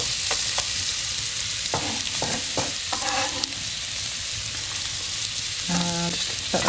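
Black pudding and onion hit a hot pan and fry with a constant hissing sizzle, a few spatula scrapes and taps scattered through, and a brief tonal clink near the end, close up with no voices.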